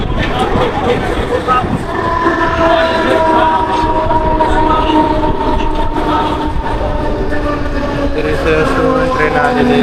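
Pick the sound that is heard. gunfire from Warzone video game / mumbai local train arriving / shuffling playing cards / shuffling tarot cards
mumbai local train arriving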